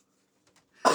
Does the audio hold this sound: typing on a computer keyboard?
no